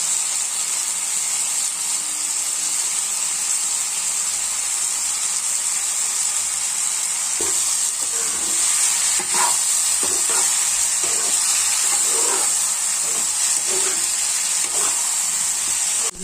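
Cinnamon and chili sizzle in hot oil for chicken khichuri, a steady bright hiss throughout, with soft clinks of stirring joining in during the second half.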